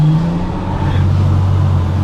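Sports car engine idling and blipping into gentle revs, a close, loud, steady engine drone that rises slightly partway through, with no talk.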